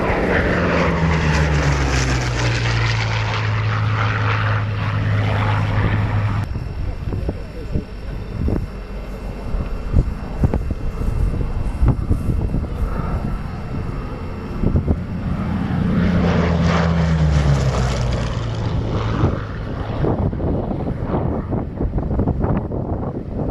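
A Hawker Sea Hurricane fighter with a Merlin III engine roaring past in flight at an air display. The propeller drone swells and fades, with wind buffeting the microphone in between.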